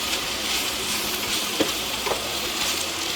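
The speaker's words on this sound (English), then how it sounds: "I'm going to give it a stir." Spinach is stirred in a hot pan, a steady sizzling hiss with a few soft scraping knocks of the spoon, close and continuous without speech.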